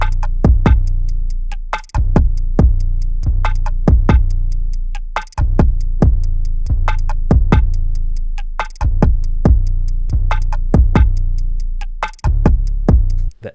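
A trap beat of punchy kicks, crisp hi-hats and snappy snares loops in a steady rhythm, loud and dry with deep bass hits underneath.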